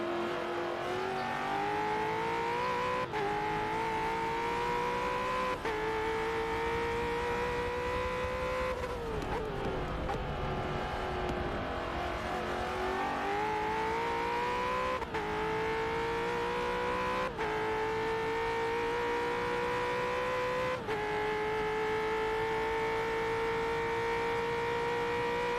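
Supercars racing at Bathurst, a loud close engine roaring steadily with repeated sharp downshifts and blips, pitch dropping and climbing again through the gears.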